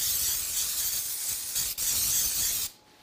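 Coconut oil cooking spray hisses steadily from a can onto a pan for zucchini bread, a close continuous spray with one brief break before it stops.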